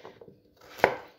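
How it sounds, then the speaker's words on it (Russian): A single sharp knife chop cuts through pumpkin on a cutting board, crisp and close, after a moment of quiet faint handling sounds. "Вот так нарезаю тыкву."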